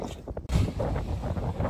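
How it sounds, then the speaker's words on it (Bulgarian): Gusty wind buffeting the microphone on a deserted beach near a campsite, a steady broadband roar that swells in after a brief quieter moment and stays loud throughout. "Ама е доста ветровито."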